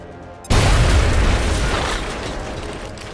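A grenade detonates in the XCOM video game, a sudden loud boom after a brief quiet lead-in, followed by a long, rumbling blast tail that slowly decays.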